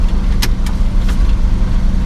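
Pontiac Fiero car driving on the freeway toward home, a steady low engine and road rumble filling the cabin, with a few brief faint ticks or jingles over the constant drone.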